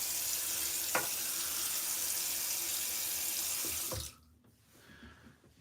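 Tap water runs steadily into a sink while a shave bowl is rinsed, a close, hissing stream with a couple of light knocks, then it cuts off to near quiet with faint drips.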